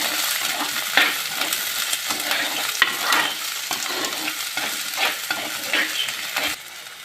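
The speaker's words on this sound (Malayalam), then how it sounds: "ഇനി നമുക്ക് അരിഞ്ഞ് വെച്ചിരുന്ന സവോള ഇടാം." Chopped onion frying in a pan for kingfish mappas, a loud continuous sizzle broken by stirring scrapes and a few sharp knocks, close up and with no talking.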